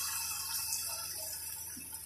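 About one and a half glasses of water are poured into a cooking pot of potatoes with cumin, a soft, steady rushing splash that stays even and fairly faint throughout.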